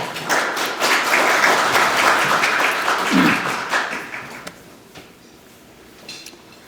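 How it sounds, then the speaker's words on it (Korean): An audience at a lecture on the world economic outlook applauds in sustained clapping that fades out, leaving a quiet room with a few faint taps. "큰 박수 맞이해 주시면 감사하겠습니다"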